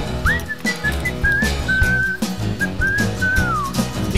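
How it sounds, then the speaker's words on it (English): Melodic whistling carries a bright, wavering tune over a song's rhythmic backing, with short swooping notes repeated across the passage, loud and up front. "people like whistling,"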